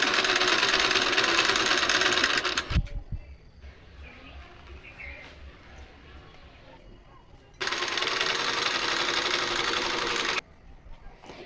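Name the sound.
sewing machine stitching quilt cover from old saree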